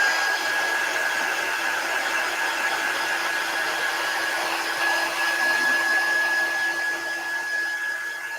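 Heat tool blowing steadily to warm a Chalk Couture fall decor piece, a continuous close whooshing drone with a thin high whine, unbroken for the whole stretch.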